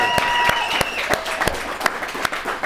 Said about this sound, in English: Come on, give us some round of applause